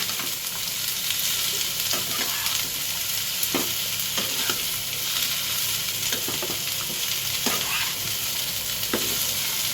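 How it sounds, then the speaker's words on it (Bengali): Shrimp, ridge gourd and potato in poppy-seed paste are stirred in a pan over the heat, with a steady loud sizzle of frying and occasional scrapes and knocks from the spoon, and no talking. "এবার ভালো করে এটাকে সবের সঙ্গে একসাথে মিশিয়ে নাড়াচাড়া করতে হবে, মিশিয়ে নিতে হবে।"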